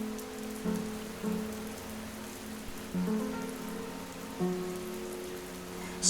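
Steady rain patters on a surface in a soft, even hiss, fairly quiet and constant, with faint low tonal background notes and no voices.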